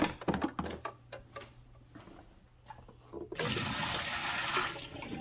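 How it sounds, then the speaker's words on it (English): Vinegar poured out of a Keurig B70 Platinum coffee maker's water tank into a sink, starting with a few light clunks and taps, then becoming a steady, loud rush of liquid splashing that runs to the end. "Now I'm going to take this over and dump out the rest of that vinegar"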